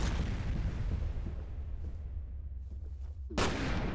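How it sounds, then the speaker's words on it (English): Grenade blasts in the shooter game F.E.A.R. come as a steady, heavy low rumble, followed near the end by one sharp, loud explosion that bursts in close. "Throw grenades at me."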